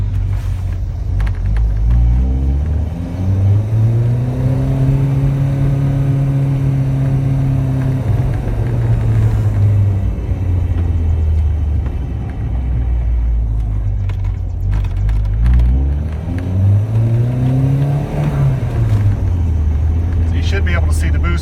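Callaway turbocharged VW Rabbit engine rising and falling in pitch as it revs and accelerates on the road, loud and close from inside the car, with steady road and wind rumble underneath.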